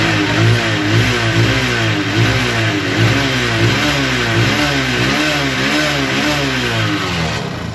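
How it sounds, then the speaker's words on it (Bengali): A second-hand Freedom 125cc motorcycle engine revs steadily and loudly up close, its pitch rising and falling in repeated waves of throttle without any talk. "এখন দেখাবো হচ্ছে এই বাইকটির সাউন্ড এবং পারফরমেন্স"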